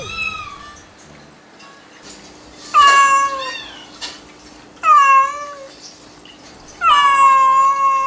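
A grieving mother cat meows plaintively, three long drawn-out cries spaced a couple of seconds apart and close by, over faint background noise, with no voices.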